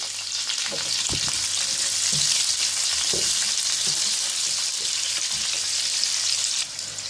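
Onions sizzle loudly as they hit hot oil with whole spices in a pan for chana pulao, a steady dense frying hiss with scattered crackles and occasional stirring clinks, no voices.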